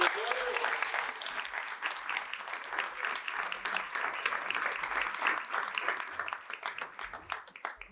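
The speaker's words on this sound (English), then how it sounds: "Big round of applause for both" Steady applause from an audience at a high school awards night fills the room, dense clapping holding at an even level throughout without a break.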